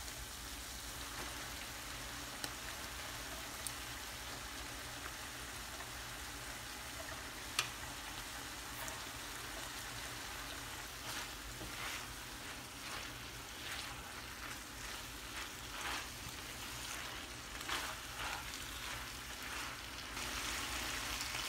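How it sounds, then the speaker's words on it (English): Long beans sauté in a pan for a Filipino mixed-vegetable dish with shrimp paste, giving a steady, fairly quiet broadband sizzle with faint scattered pops and crackles and no voices. "The beans have been sauteing for about 2 minutes"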